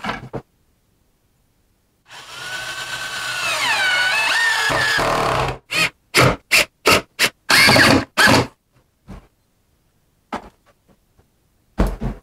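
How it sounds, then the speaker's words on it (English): Power drill boring a large hole in wood with a Forstner bit, a sustained whining drill run of about three seconds followed by a series of short bursts and pauses, close and loud. "I'm going to use a Forstner bit and put a big hole"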